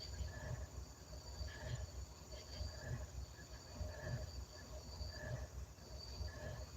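A train rumbles steadily while odd high-pitched squealing tones rise and fade in a repeating pattern; insects chirp faintly in the background.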